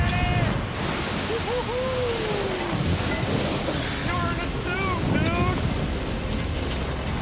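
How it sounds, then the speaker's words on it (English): Heavy ocean swell and waves pound around a swordfish boat at sea in rough weather, a constant roaring rush mixed with heavy wind buffeting the microphone, while people shout and talk over it. "the waves are just making you go all over the place"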